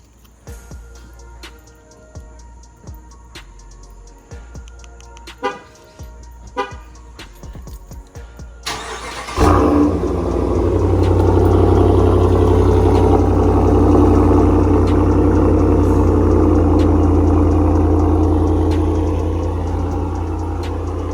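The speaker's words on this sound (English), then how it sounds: "Now it actually sounds like a truck." A pickup truck fitted with a new Corsa exhaust cranks over and settles into a loud, deep, steady idle that rumbles on alone after a few clicks and knocks before start-up.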